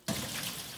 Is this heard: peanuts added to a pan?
no